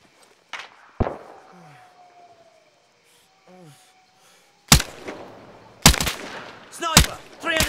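Gunfire in ArmA 3, sharp isolated shots at first, then loud close bursts and volleys, with a whistling tone and faint calls in between.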